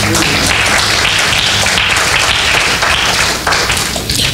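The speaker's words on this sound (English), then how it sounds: "Clap your hands." A church congregation claps their hands together in a dense, steady wash of applause that fills the room at an even, loud level throughout.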